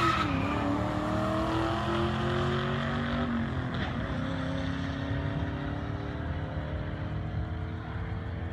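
Ford Mach 1 with a cam, on street tires at a race track, spins its tires: a loud, continuous engine roar layered with screeching tire squeal, held steadily close up for the whole stretch before easing slightly.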